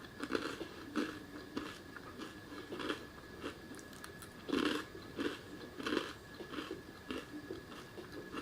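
Someone bites and chews a sugar-coated biscuit shaped like Mount Fuji, with repeated close, crisp crunches in a steady chewing rhythm and quieter mouth sounds between them.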